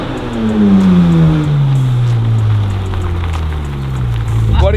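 Modified Porsche GT3 drives past, its engine note sweeping downward as it recedes, loud and close with road and wind noise.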